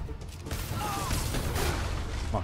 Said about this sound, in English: No, cement mixer's running again.